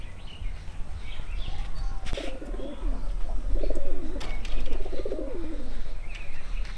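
Several Madras pigeons coo close by in repeated soft, rolling phrases, with a brief flutter of wings and faint chirps over a steady background hum.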